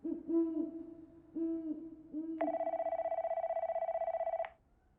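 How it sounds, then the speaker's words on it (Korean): A telephone rings in a steady electronic trill for about two seconds, preceded by low hooting tones, heard in a quiet setting at night. "다시 전화기가 울린다."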